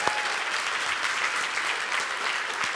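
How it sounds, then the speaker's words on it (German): An audience applauds steadily for a youth team at a hackathon event in Munich, a dense, even wash of clapping that lasts throughout. "Großer Applaus für euch."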